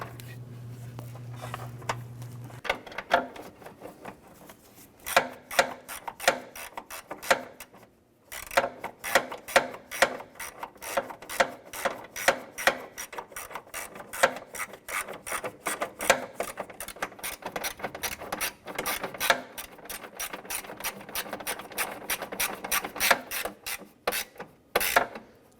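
A ratchet tightens header panel bolts on a 1993-1997 Ford Ranger, giving rapid, close-up pawl clicking in bursts. The clicks are briefly interrupted and then resume in a dense, steady run.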